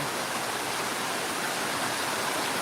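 Very heavy cloudburst-like rain pours down in Pirachi Kuroli during a thunderstorm, a dense, steady, close roar of falling water with no pauses and no thunder clap standing out.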